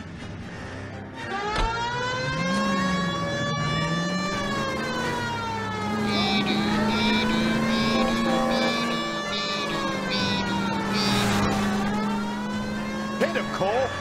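A police car with its siren wailing as it drives in the game L.A. Noire, heard close and loud, with a rising and falling siren over engine rumble and a little background noise.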